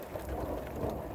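Rain pattering on a lake's surface during a thunderstorm, with low rumbling thunder rolling beneath the dense, steady patter in a brief close burst.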